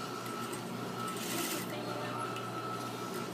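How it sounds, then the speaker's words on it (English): A sewing machine runs steadily, stitching a curved seam in fabric just under a half-inch seam allowance, with a continuous mechanical whir and no pauses. "we're sewing this a little less than 1/2 inch"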